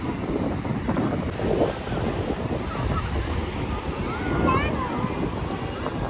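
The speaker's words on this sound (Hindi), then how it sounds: "इन समुंदर की लहरों को देखने चलते हैं।" Sea waves wash onto a beach in a steady, rushing surf, with wind buffeting the microphone throughout, a continuous moderately loud roar with a faint voice in the background.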